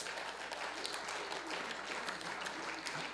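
A church congregation claps together, a dense steady sustained applause with no talk, heard at moderate volume for a few seconds.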